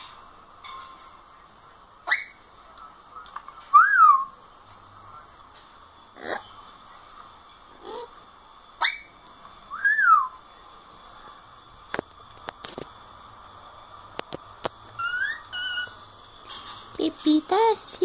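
A parrot whistles a few short, sliding notes that rise and fall, spaced apart by quiet gaps, with scattered clicks and other indoor sounds between them.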